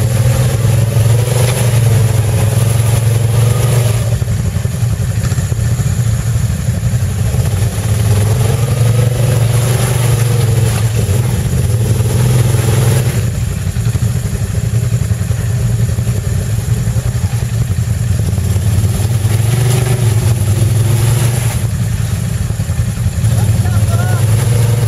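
A car engine, revved gently to engage the viscous fan coupling, runs as a steady, loud, close drone that swells and eases in slow waves over about 25 seconds.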